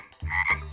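A cartoon character imitating a frog, voicing a single low, throaty croak that is loud and close, heard alone.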